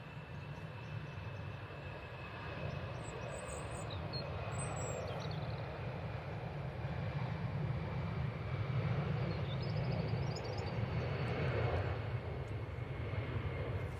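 EasyJet airliner passing at Manchester Airport, a broad steady jet roar that swells gradually and holds loud toward the end, with no talk over it.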